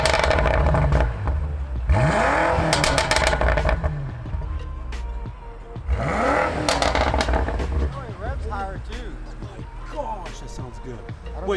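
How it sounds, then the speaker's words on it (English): Loud exhaust of a BMW M5 F90 revving repeatedly with open exhaust valves, rising and falling engine roars with crackles, and people talking in between. "put it on open valves, and I want to hear the exhaust for a second"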